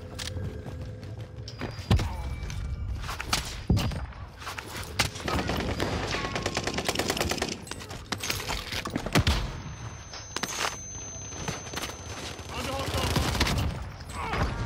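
Double-barrel shotguns boom in a video game as a run of sharp, loud blasts spaced through the clip, mixed with footsteps and clicking, while players talk over the action.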